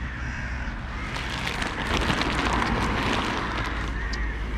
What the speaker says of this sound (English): the crows don't like it